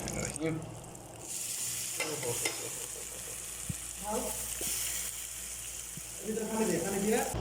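Rice and spiced mutton for biryani fry and sizzle in a pot during an indoor room cooking party, with stirring scrapes, a few clinks and voices in the background.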